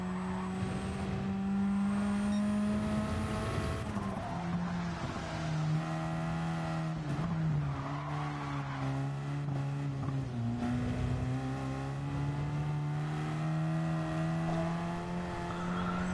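A race car's four-rotor rotary engine in Gran Turismo 7 holds a loud, steady buzzing drone that dips and rises in pitch through several gear shifts, continuous and close with no talk.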